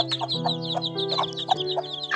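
Chickens clucking close by in a rapid, overlapping run of short calls, several birds chattering over a low steady hum.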